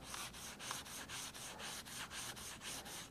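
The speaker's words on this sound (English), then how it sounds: "and sanding the leading edge" A sanding block with fine sandpaper works the leading edge of a wooden rocket fin in quick, regular back-and-forth strokes, a close, scratchy rasp pulsing about three times per second with no voices.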